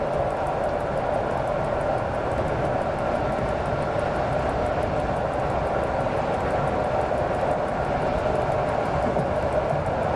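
A train rolls along in the SimRail rail simulator game with a steady, continuous rumble and engine drone, even in loudness and unbroken throughout.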